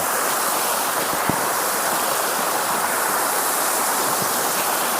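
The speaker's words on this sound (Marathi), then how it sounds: "या ठिकाणी हा नॅचरल धबधबा निर्माण केलेला आहे" A man-made waterfall on a green educational campus in Akurdi produces a steady, loud rushing hiss of falling water, continuous and unbroken with no talk.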